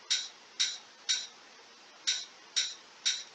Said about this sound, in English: I have the CB hat and the vintage hi-hat, and they're stacked on top of one another.